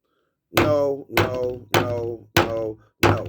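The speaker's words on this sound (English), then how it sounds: "I got to bang the gavel on y'all clowns" A gavel bangs five times in a slow, steady rhythm, each blow a loud, close, resonant thunk with a short ring-out.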